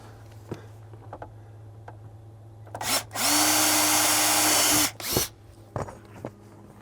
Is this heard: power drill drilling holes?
yes